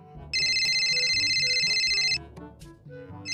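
An outgoing phone call rings with a steady electronic ringback tone lasting about two seconds, loud and clear over faint background noise, then stops.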